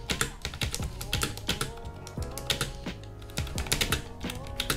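Fingers type on a colorful plastic Bluetooth QWERTY keyboard, a quick irregular run of crisp close key clicks in bursts with brief pauses, alone and fairly quiet.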